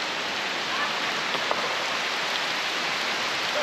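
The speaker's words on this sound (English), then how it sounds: "There's a little rainy patch here." Rain comes down at a gorge waterhole along the Gibb River Road, a close, continuous hiss of drops with one or two brief ticks standing out.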